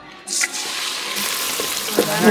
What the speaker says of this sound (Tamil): இப்போ நெக்ஸ்ட் வந்து நம்ம வெங்காயத்தை உள்ள போட்டுடலாம்.